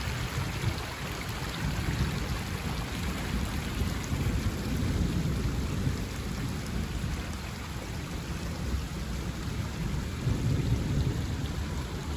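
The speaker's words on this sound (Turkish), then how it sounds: "Evet arkadaşlar yağmur da yağmaya başladı." Steady rain pours down with a low, rolling rumble of thunder underneath, continuous and fairly loud, with no voices.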